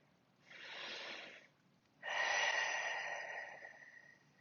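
Two slow, audible breaths during a floor exercise, a soft inhale followed by a longer, stronger exhale, close and alone with no talk.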